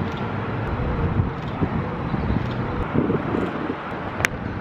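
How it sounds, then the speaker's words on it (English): Wind gusting across the open top level of a parking garage, a continuous loud rushing roar buffeting the microphone, with faint traffic sounds underneath. "Hopefully my camera doesn't blow over in the wind."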